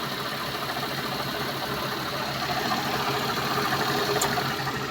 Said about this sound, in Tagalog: So tahimik na yung makina.